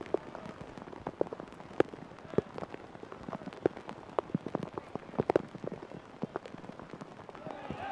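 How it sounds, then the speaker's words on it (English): Steady, heavy rain patters and splashes all around at an East Tennessee college baseball game, dense crackling drops with occasional sharper hits, moderately loud and continuous. "Sun's trying to shine, and it's absolutely pouring."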